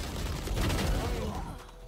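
Short burst of gunfire in a first-person shooter, a quick cluster of loud shots fading over two seconds amid game noise.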